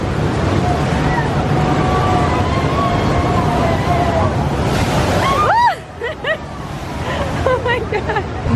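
At SeaWorld Orlando's Mako coaster, water splashes over the splash zone as a loud rushing wash of spray with crowd chatter, then cuts down abruptly, leaving voices and excited exclamations.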